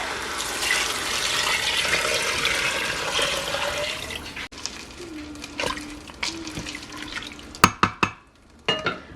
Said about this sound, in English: And 8 cups of water.